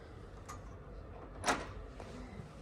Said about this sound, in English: I get to close the door.